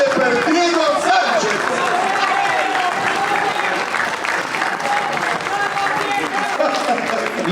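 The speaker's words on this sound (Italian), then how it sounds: "ultimo applauso per Gianni Conte, per tutti gli artisti tranne che per Diego Sanchez" A TV variety show audience applauds the performers with sustained, dense clapping at full strength, slowly easing off, while voices and cheering mix in.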